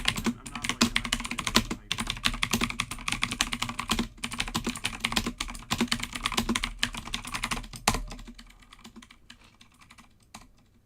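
Rapid, steady clicking of keys on a computer keyboard during a live stream, close and continuous, then tapering off to a few scattered taps near the end.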